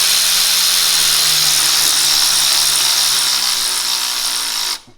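Steady, loud buzzing whir of a 10mm bolt being driven on a Subaru WRX alternator, running continuously for nearly five seconds and then cutting off abruptly.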